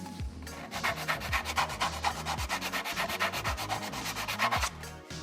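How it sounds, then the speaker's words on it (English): Rhythmic back-and-forth rasping of sandpaper flattening a plastic helmet part, close up and steady, about four strokes per second. "So I'm just sanding this down, just getting this flat."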